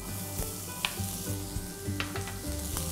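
Onion sautés in hot oil with cumin, asafoetida, turmeric and green chillies, a steady close sizzle with soft rhythmic stirring scrapes and a few light utensil taps, no voices over it.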